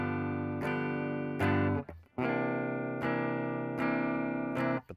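A dominant 7 barre chord on guitar is strummed repeatedly, about six even, ringing strums through a slightly overdriven tone, played alone and up close.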